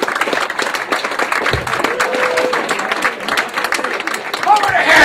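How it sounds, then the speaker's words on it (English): A comedy club audience applauds a stand-up comedian at the end of his set, a close, lively burst of clapping and cheering that stays steady, with voices mixed in. "give him a round of applause"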